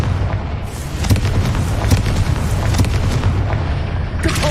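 Confringo blasting spell from the Hogwarts Legacy video game bursts as a loud, dense explosive roar that rumbles continuously for several seconds, with crackling debris and a brief sharper tail near the end.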